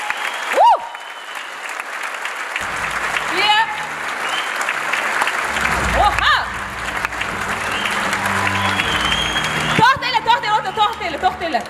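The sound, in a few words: audience applause at concert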